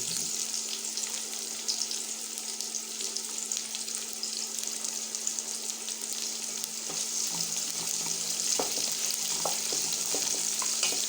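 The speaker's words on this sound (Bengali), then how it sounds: "আমি এই পেঁয়াজটা ভেজে নিই" Onions sizzle and crackle in hot oil, a steady frying hiss with occasional stirring, close by and without talk.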